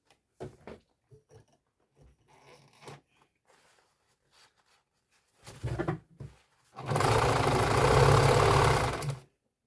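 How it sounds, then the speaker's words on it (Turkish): A sewing machine stitches the side seams of a denim bag, with a steady loud run of about two seconds near the end after scattered handling clicks and brief bursts, close by and with no talking. "Şimdi yanlarını dikeceğiz."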